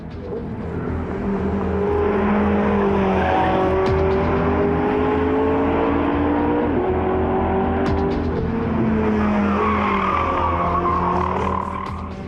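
A Porsche 918 Spyder hybrid sports car drives hard around a racetrack, its V8 engine roaring loudly and steadily with shifting pitch as it accelerates and changes gears, the sound close and continuous throughout.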